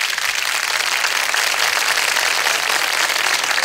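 Dense, loud applause from a large crowd, steady and sustained throughout with no pauses.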